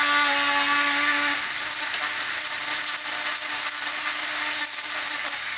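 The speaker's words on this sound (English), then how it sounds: "when you're using a drill effectively to melt plastic, you get quite a bit on the drill" A small drill bores and melts through a plastic model kit part, a continuous high whine with a tonal hum at the start, steady and close throughout.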